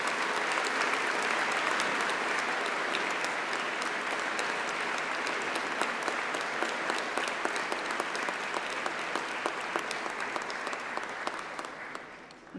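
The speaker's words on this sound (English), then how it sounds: "should we have a round of applause for all those special people celebrating with you?" A graduation ceremony audience claps in a long, dense burst of applause that fills the hall at an even level, then thins and fades toward the end.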